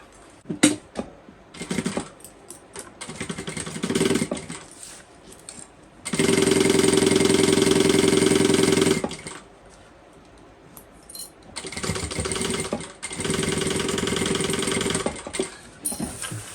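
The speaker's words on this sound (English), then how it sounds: "So we're just going to go ahead and baste down the sides." A sewing machine basting down the sides of a bucket bag runs in short bursts, then two longer steady whirring runs, with handling clicks and fabric rustle between stitching passes.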